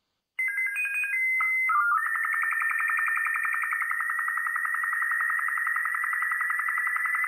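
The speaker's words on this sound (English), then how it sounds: "Okay, that's SSTV." Slow-scan television (SSTV) radio transmission tones in Kerbal Space Program: a loud electronic tone starts abruptly, stepping through a few pitches before settling into a steady, buzzing warble that continues without pause.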